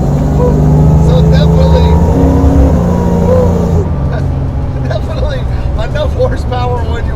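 A supercharged 1969 Chevrolet Camaro SS restomod with an LSA 6.2-liter V8 drones loudly from inside the cabin, a rising whine over the engine note before the revs drop around midway, while someone talks over it.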